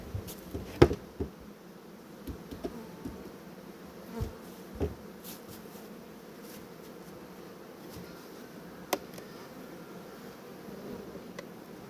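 A steady low buzzing hum of many honeybees in a wooden hive fills the background, with scattered soft knocks and clicks from nearby handling.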